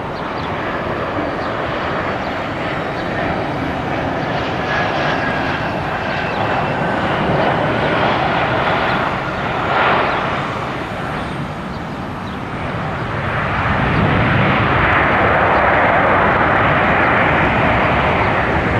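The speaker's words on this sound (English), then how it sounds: "It's the Alaska Airlines Orca, brand new 737 MAX 9." Brand-new Alaska Airlines Boeing 737 MAX 9 airliner at Columbus airport, its jet engines making a steady broad roar that swells louder toward the end.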